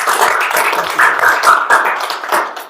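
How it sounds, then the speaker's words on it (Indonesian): Classroom applause for a student named Ayu, a short burst of many hands clapping close by, steady and fairly loud for a few seconds before tapering off. "tepuk tangan buat Ayu"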